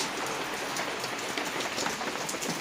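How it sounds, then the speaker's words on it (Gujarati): Steady rain falls on surfaces in a village during the monsoon, a dense, even patter of drops heard close by and alone, with no voices over it. "તમને વરસાદ બતાડું તો તારી વિડીયોમાં મજા આવે તો જા જુઓ આવો કાંઈક વરસાદ છે"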